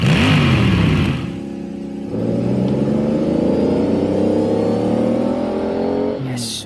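A car drives past and revs, the engine note climbing steadily through a long acceleration and staying loud and close throughout, with no one speaking.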